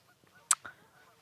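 White geese at a park give one sharp honk followed by a softer second call, brief and fairly faint against quiet background ambience.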